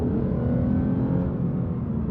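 A Lexus RC350 F-Sport's V6 engine pulls hard as it accelerates past 4000 RPM, a steady, close, low, rising drone from the cabin with no talk over it.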